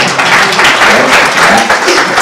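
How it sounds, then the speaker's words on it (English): A crowd applauds steadily, a dense wash of clapping that stays loud and even throughout. "I want an applause."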